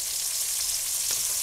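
Pork chops browning in a pot make a short, steady sizzle at moderate level, close and alone, with one brief sharper pop near the end.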